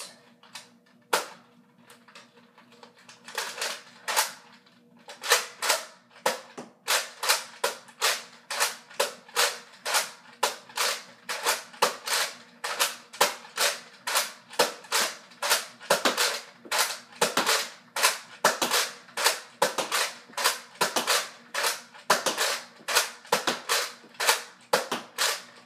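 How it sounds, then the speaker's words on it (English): A Nerf N-Strike Elite Retaliator toy blaster fires Elite darts in a long run of sharp, loud cracking shots, close up, at a fairly steady rapid rhythm of roughly one or two per second. "I'll be doing two firing tests, one with the normal elite darts and one with the AccuStrike darts."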